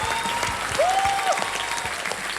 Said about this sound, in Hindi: तालियां बताओ।